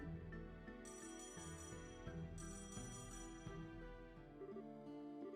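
A phone rings on a call in the video game Trails in the Sky Second Chapter, a steady repeating electronic ring playing quietly and alone with no talk.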